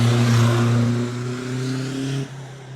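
A souped-up car's loud engine revs hard with a steady droning pitch at a race start, then cuts off abruptly near the end as it launches forward, at a spectator match race in New Smyrna.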